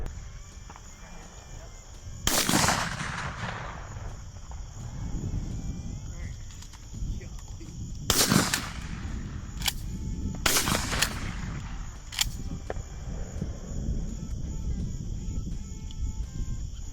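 Several loud shotgun blasts at doves during an Arkansas dove hunt, fired singly and in quick pairs across the stretch, booming close over a steady outdoor background of crickets and insects, with people talking between shots.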